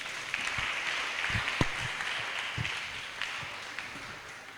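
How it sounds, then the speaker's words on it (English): Applause follows a business pitch presentation, a fairly soft, diffuse patter of clapping from a modest audience with a few louder individual claps and low thumps scattered through it. "Please, let's applaud her."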